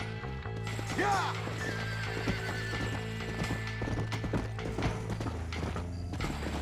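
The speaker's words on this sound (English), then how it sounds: "Hard to get my horse moving." A horse in the video game Red Dead Redemption whinnies with a rising, wavering cry over steady hoof clip-clops and a low droning background, with a voice briefly speaking.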